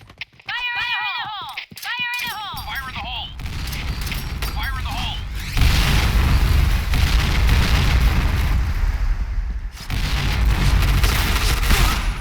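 Explosions in a shooting video game boom again and again and land loud and close, with dense rumbling bursts. A voice shouts excitedly over them at the start.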